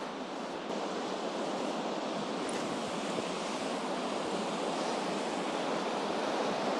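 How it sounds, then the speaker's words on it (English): Fast, aggressive water of the Strid on the River Wharfe rushes in a steady, loud broadband roar, constant and unbroken with no voices. "you can see how aggressive the water is"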